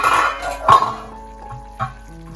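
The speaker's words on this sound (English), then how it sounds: "give it a little mix again and check how it goes" Cauliflower in tomato sauce stirred in a pot, with a few distinct clinks of a utensil against the pot and soft scraping in between, close and moderately loud, no talking.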